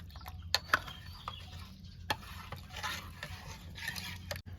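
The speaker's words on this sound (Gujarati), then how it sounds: "હવે ફેરવી નાખવાનું હવે આવી રીતનું છે ને આમ ફેરવી નાખવાનું એટલે બધું મિક્સ થઈ જાય" Spoon stirring a Gujarati drumstick curry with buttermilk, gram flour and turmeric in a pot, faint scraping and soft clinks in an irregular rhythm over a low background hum.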